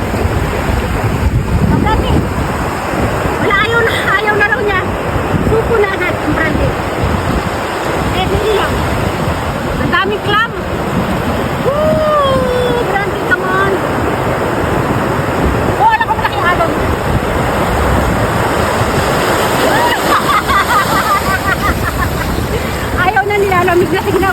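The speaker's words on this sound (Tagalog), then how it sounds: "Ay na, may alon, may alon." Ocean waves at Oarai beach, Japan, surge and wash continuously, roaring close by with heavy wind buffeting the microphone; faint voices call out underneath.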